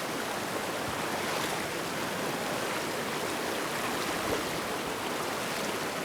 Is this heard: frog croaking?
no